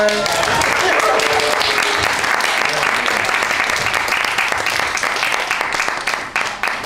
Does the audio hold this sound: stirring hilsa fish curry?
no